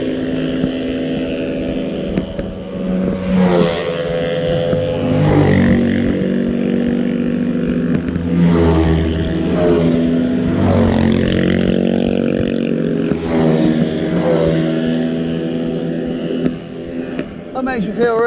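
A two-stroke motorbike engine passes on a mountain green lane, its buzzing note rising and falling through several revving sweeps, loud and fairly near over wind noise.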